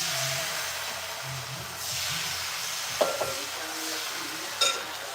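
A soft, steady hiss of bánh cuốn batter sizzling in a hot pan fills the clip, with a couple of brief clinks and scrapes partway through.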